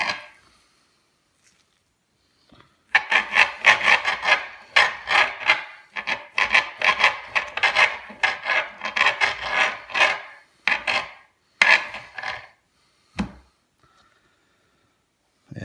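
A kitchen knife sawing raw beef into steaks: close, repeated rasping strokes in an uneven rhythm, some quick and choppy, some longer drags, with short pauses between cuts and no talking.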